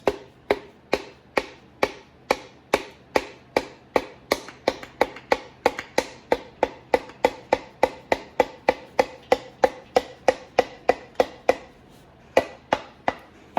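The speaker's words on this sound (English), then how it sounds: "I'm going to put my hand down on the bottom and keep tapping it to guide it onto the crankshaft" A piston being tapped down into a Dodge 5.9L Magnum engine block onto the crankshaft, around forty sharp, evenly spaced knocks in a steady rhythm, close and crisp, with a short pause near the end.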